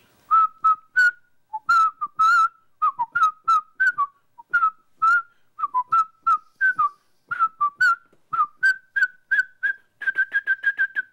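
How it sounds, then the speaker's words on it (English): A person whistles a tune alone, a long string of clear, bright notes in a bouncy, irregular rhythm, some short and clipped, others held, close and steady in level. "the caveat is you have to be able to whistle it"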